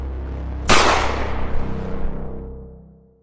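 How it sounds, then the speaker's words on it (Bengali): A single gunshot fired at a hyena, used as an audiobook sound effect: one sharp loud bang with a long rumbling decay that fades away over a few seconds, with no voices. "জন্তুটাকে লক্ষ্য করে গুলি ছুড়লাম।"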